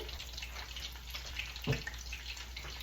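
Canned green beans rinsed under running water in a kitchen, a faint steady stream with a brief louder splash midway, close and without talk.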